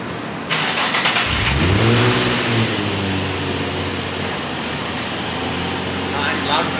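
Nissan VQ-engined car with headers and test pipes revs its exhaust nearby, a rising then falling rev swell over a steady idle drone; people talk over it.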